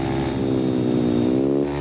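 A motorcycle in a video game revs steadily with a loud, buzzing engine tone that holds high and sustained, with no talking over it.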